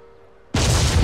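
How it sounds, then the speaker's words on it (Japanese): A sudden explosion in the action game Yakuza Kiwami bursts in after half a second of near silence, then a loud, sustained roar continues to the end. "突然の爆発。"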